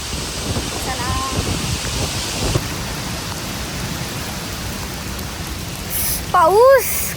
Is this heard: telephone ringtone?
no